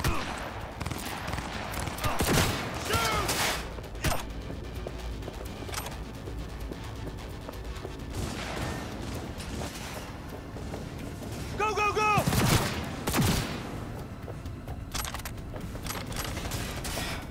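Gunfire in Cyberpunk 2077: scattered bursts of shots and a few sharp single cracks over roughly seventeen seconds, mixed with game sounds, some near and loud, others fainter, while someone talks intermittently.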